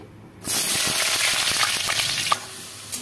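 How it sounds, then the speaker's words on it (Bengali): Potatoes frying in a pan for chana masala, a loud hissing sizzle that bursts in after a short quiet moment and continues with small crackles. "আমি আলুটা একটু ভেজে নিচ্ছি"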